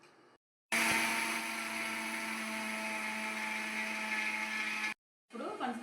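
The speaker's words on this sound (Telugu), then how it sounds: "ఇప్పుడు అరకిలో పంచదారను కూడా ఇలా మిక్సీ గిన్నెలో వేసి మిక్సీ పట్టుకోవాలి" Half a kilo of sugar being ground to powder in a kitchen mixer grinder jar, a loud continuous whirring drone lasting about four seconds, bracketed by brief silences and a bit of speech at the end.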